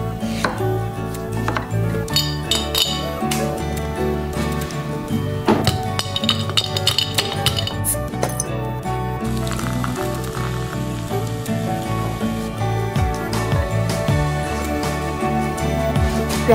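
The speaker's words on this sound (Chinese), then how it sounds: "再来搭配一个清爽的桃子汽水" Peach soda is poured into a glass. Loud, close fizzing hiss and crackle carries on throughout, with scattered sharp clinks of ice or glass.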